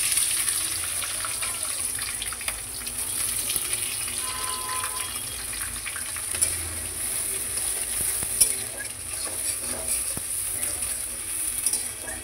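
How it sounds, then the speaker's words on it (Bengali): Onions frying in a pan with panch phoron spices, a steady hiss and crackle of sizzling oil running continuously, with occasional scrapes and clinks of stirring. "আমি এবার পেঁয়াজ তুলে দেব।"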